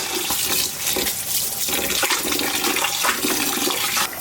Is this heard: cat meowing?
no